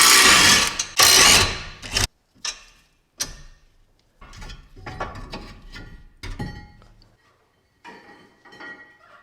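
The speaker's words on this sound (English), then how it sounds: "Next step is to remove the brake caliper bracket, and to do that there are two bolts, here and here, 18mm." A ratchet works on the 18mm brake caliper bracket bolts of a 2001 Mercedes-Benz W210 E55 AMG, giving loud close bursts of rapid clicking separated by brief pauses, with softer ratcheting strokes later on.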